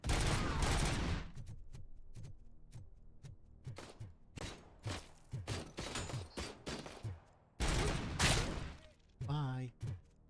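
Bursts of gunfire from the video game Robocop Rogue City, rapid overlapping shots in clusters with thuds and mechanical clatter, loud and close, with game voices between volleys.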